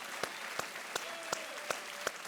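Studio audience clapping in unison on a Hindi quiz show set, a steady rhythmic beat of loud synchronized claps roughly every third of a second over a faint background hum.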